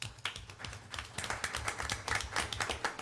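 Small audience at a regular town council meeting applauding the council chairman, a brisk patter of many hands clapping that swells slightly and continues steadily throughout, with no talk over it.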